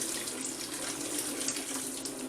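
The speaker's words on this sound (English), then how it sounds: "I'm going to take the veg and pour it into the" Drained vegetables poured into a minced beef chilli mixture, heard as a steady, close, watery rush and splash with no pauses and no talking.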